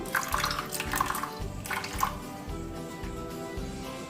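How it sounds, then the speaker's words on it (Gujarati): Water poured into dhokla batter gives a splashing, trickling pour with repeated bursts and drips at close range, alone without talk. "ઉપરથી થોડું પાણી એડ કરીશું"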